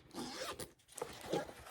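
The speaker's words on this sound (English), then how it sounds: "you can unzip this part" A zipper on a D.Mindset Pin-Blip pin travel case is pulled in a few quick rasping strokes, heard close up with short pauses between them and no talking.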